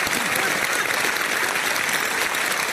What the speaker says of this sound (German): Das ist Ihnen ein Applaus.